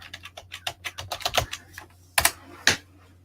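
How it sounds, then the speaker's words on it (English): Fingers type a message on a computer keyboard in a quick run of light key clicks, then pause before two louder, separated keystrokes near the end. "Let me type a message to him"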